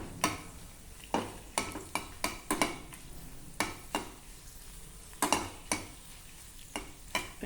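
Dried red chillies, Byadgi and Guntur, broken into hot oil kept on a low flame for homemade tambuli. Sharp scrapes and clicks from stirring in the pan repeat over a faint background sizzle, with no talk.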